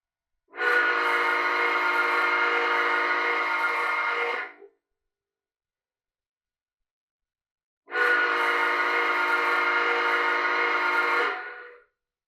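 An O-scale model 2-8-0 Consolidation steam locomotive sounds a shrill whistle twice, each blast steady and about four seconds long, separated by a few seconds of silence.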